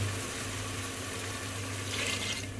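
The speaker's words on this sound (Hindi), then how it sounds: "अब मैं इसे आधा ग्लास पानी का डालूँ" Half a glass of water poured into a pan of frying split yellow moong lentils gives a steady sizzling hiss and bubbling, faint and continuous throughout.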